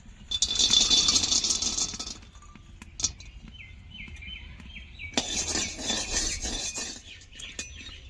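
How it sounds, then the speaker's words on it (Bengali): Nuts frying in a pan give two bursts of dry rattling and hissing sizzle, each a couple of seconds long, separated by quieter scattered clinks and taps. "বাদামগুলো ভেজে নেবো"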